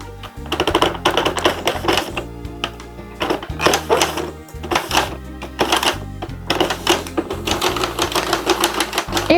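A Sentro knitting machine clatters steadily as its crank turns out rows of a pink scarf, a loud, close, rhythmic rattling of plastic needles in continuous bursts with brief pauses.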